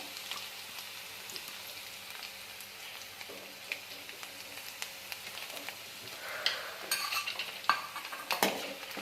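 Chopped garlic sizzling in hot oil in a pan while being stirred: a soft continuous fry hiss with scattered scrapes and clinks of a spoon against metal, growing busier toward the end.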